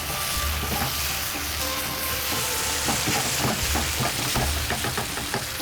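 Beef and green chilies sizzling steadily in a hot pan as they are stirred, a constant loud frying hiss broken by repeated scraping strokes of the spoon, close up with no talking.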